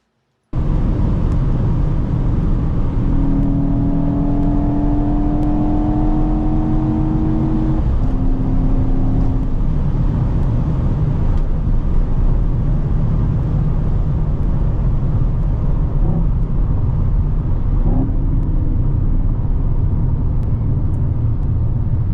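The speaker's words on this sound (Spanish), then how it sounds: "ahí está donde el motor híbrido está trabajando" Mercedes-AMG GT 63 S E Performance hybrid accelerating, a loud continuous engine roar with rising tones during the early pull, then a sustained dense rumble at speed with no voices.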